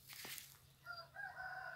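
A rooster crows and hens cluck in a free-range farmyard, the calls moderately distant and fairly quiet, a short burst of clucks followed by a drawn-out crow.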